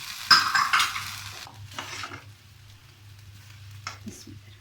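Peri peri rice is scooped from a pot into a serving dish: a loud scrape of a spoon against metal up front, then softer scraping and clinks with gaps between.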